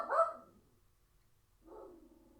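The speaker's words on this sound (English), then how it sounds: "Looks like the mail just came, so sorry, the dog is going to go crazy for a little bit." A house dog reacting to the arrival of the mail gives two separate barks, a sharper one at the start and a duller one later, fairly faint and with no one talking over them.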